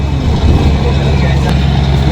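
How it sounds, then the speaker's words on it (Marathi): Mumbai main-road traffic rumbles steadily nearby, a loud, continuous low drone of passing vehicles, with a person talking over it. "मुंबईची ट्रॅफिक."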